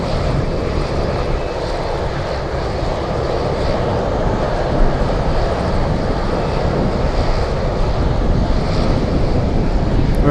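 An Atlas cargo airplane from Shenzhen at Anchorage airport gives a steady, loud engine roar mixed with heavy gusting wind noise, continuous throughout.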